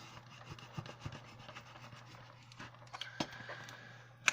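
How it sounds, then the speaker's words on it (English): A scraper rubs paper down onto a scrapboard with soft, close scratchy strokes in an irregular rhythm, steady friction broken by a few sharper taps near the end. "I'll go ahead and get my scraper here. And just burnish it down."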